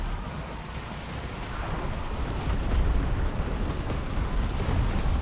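Cannon fire rolls across an Empire: Total War battlefield as a dense, continuous rumble of booming artillery, loud and unbroken, with no distinct individual shots standing out.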